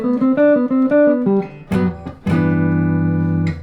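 Jazz guitar playing the opening phrase of a jazz tune: a quick run of single plucked notes followed by a couple of longer ringing notes, clear and close, without talk.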